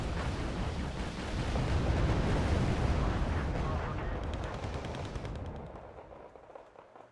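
Dense gunfire and artillery from Wargame: Red Dragon roll on as a loud, continuous rumbling barrage with crackling shots layered on top, swelling and then gradually fading toward the end.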